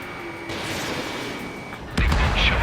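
Fighter jet cannon fire in Ace Combat 7, a steady rattling burst of gunfire under engine roar, cutting into a sharper, louder blast of fire partway through.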